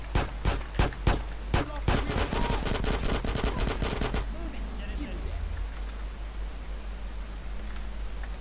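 Gunfire in GTA San Andreas: single sharp shots at first, then a dense rapid burst of automatic fire for a few seconds before it cuts off, leaving low background hiss with faint talk.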